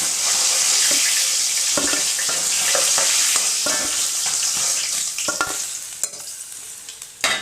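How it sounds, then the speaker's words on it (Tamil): Fish fries in hot oil for Malaysian fish sambal, a continuous loud sizzle with scattered crackles and a few utensil clinks near the end. "மீன் 2 பக்கமும் நல்லா பொரிஞ்சு வந்துருச்சு."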